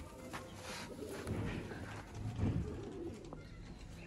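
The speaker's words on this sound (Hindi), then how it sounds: "देखो ए कबूतर बहुत कम वेखण नूं लभदे ने" VIP pigeons kept for sale in a loft setup, giving soft, low, rolling coos that rise and fall over a few seconds against light background noise, with no voices.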